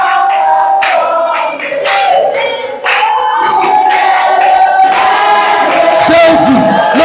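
A church congregation cheers and acclaims the Lord in loud, sustained crowd voices, with shouts and bursts of clapping running continuously through the gathering.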